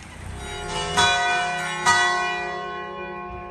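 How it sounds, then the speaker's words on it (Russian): Church bells of a small Italian town in winter ring out in a sustained, resonant hourly peal, with two fresh strikes swelling over the lingering hum before it slowly fades. "Так красиво перезваниваются каждый час колокола."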